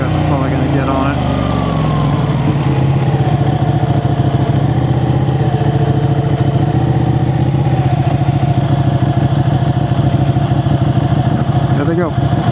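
Ducati motorcycles idle at a bike meet, a steady close mid-pitched engine rumble with clattery pulses that holds throughout, with voices heard faintly alongside.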